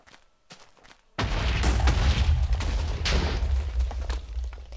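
An explosion in a let's play video game, where a quiet moment gives way to a sudden roaring blast with crackling rumble that continues loudly and steadily for several seconds.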